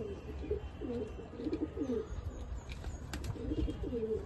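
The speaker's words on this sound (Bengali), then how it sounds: "দেখো পায়রার মোটামুটি জল খাওয়া হয়ে গেছে।" Pigeons coo repeatedly after drinking water, several soft low rolling coos in a steady pattern, with faint chirps and a few wing flaps in the background and no speech.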